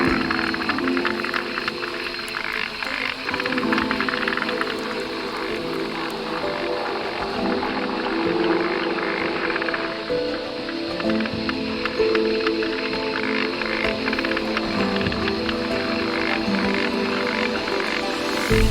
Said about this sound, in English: This is the animal gliding frog.